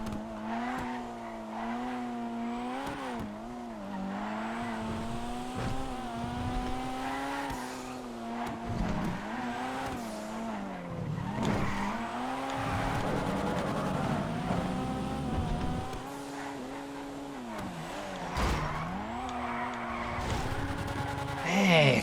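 Drift-spec car racing in GTA FiveM, the engine droning and rising and falling through gear changes, with tire squeal and skidding through corners, loud and continuous.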